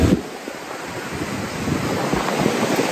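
Ocean surf rolls in at a surfing beach, a continuous loud wash of breaking waves mixed with gusty wind buffeting the microphone.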